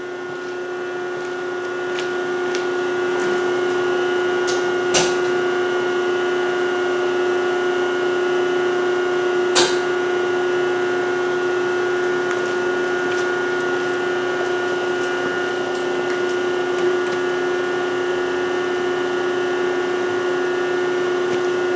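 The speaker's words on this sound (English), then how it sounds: "I'm going to turn on the CNC now and just kind of show you how it works." A CNC machine with a Fanuc control powers up, giving a steady mechanical hum with fan and pump-like whirring and a few sharp clicks, continuous and fairly close with no talking.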